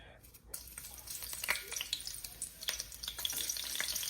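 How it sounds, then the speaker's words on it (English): Garlic frying in oil in a pot for curry turkey wings gives a steady crackling sizzle with scattered pops and stirring clicks, close and fairly loud, starting after a brief quiet moment. "go in with a little piece of garlic in my pot here"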